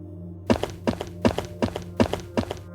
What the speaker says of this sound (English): Fast footsteps.